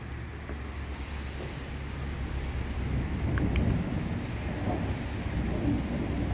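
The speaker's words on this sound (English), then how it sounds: "And still thundering." Ongoing thundersnow: thunder in a snowstorm with light snow still falling and the sun emerging, a continuous low rumble that swells in the middle, with faint scattered crackles and no talking.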